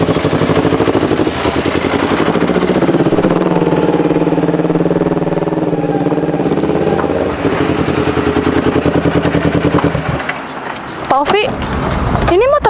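An old, worn motorcycle engine runs steadily with a low, throbbing idle, close and loud, while people talk over it.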